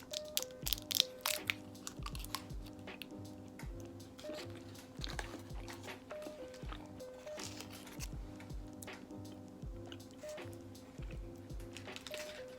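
Someone bites into and chews a peanut and dark chocolate candy like a Reese's, making faint, repeated crunching and crushing close to the mic over a soft background hum, with no talking.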